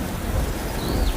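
Heavy rain pours continuously with a rumble of thunder underneath, dense and loud, filling the whole short stretch without any voices.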